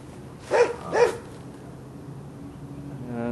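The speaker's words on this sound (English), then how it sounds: "they have a dog to protect them." A dog guarding a homeless camp gives two quick barks from a moderate distance, followed by quiet outdoor background noise.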